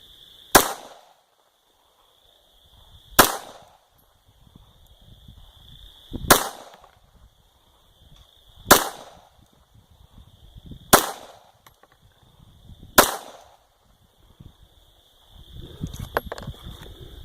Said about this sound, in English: I'm firing supported just for accuracy checking.